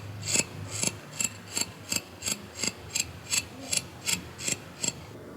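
Hand carving of a small netsuke figure, a series of about a dozen quiet, evenly spaced scraping rasps close up, each a short bright stroke over faint background hiss.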